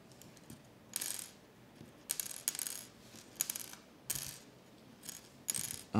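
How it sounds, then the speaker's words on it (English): Plastic acoustic guitar bridge pins being handled, giving sharp clicking and rattling bursts that come in several irregular clusters, close and fairly quiet, with no voices. "I'm gonna just start the plastic pins and just fiddle around with them to see"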